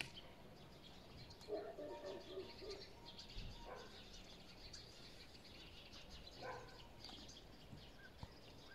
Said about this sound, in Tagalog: Mga ibon maririnig mo.